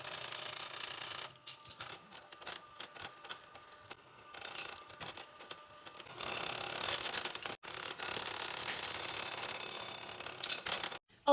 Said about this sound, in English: it's time to slowly add in our sugar while continuing to whisk